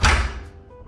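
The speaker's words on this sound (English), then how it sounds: "But as I shut the door," A front door of a third-floor apartment in West Hollywood is shut, giving a single close, heavy thunk that dies away quickly into quiet.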